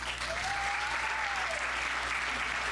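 Steady applause from a school board meeting audience clapping for first and second graders, a dense, even patter of many hands lasting the whole moment.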